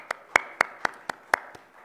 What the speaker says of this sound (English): Let us clap our hands for Jesus.